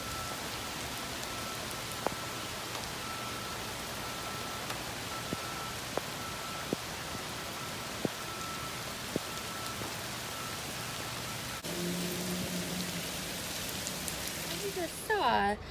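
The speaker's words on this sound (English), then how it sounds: "Just saw it is raining like crazy" Heavy rain falls outdoors near a small pond, a dense, even patter of drops on surfaces with a few sharper drips, continuous and fairly close.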